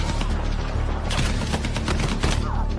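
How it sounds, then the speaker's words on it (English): A gun in the shooter game Battlefield 6 fires several shots in quick bursts, loud and close, with sharp cracks and short booms running across the whole stretch. "Wait, did it just fire multiple times?"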